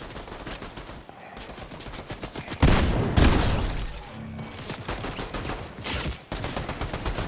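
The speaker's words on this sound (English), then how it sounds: "Why is there so much shooting going on?" Dense video game gunfire, rapid automatic bursts with heavy booming blasts, loud and continuous and close.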